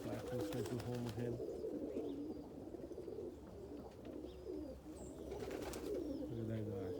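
Homing pigeons in a snowy loft, a black full stencil Homer hen among them, cooing in repeated low rolling calls close by, with faint higher chirps throughout.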